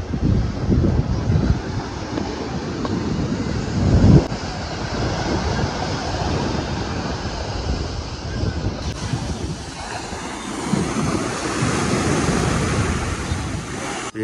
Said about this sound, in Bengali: এই দেখুন সমুদ্র কি বিশাল উত্তাল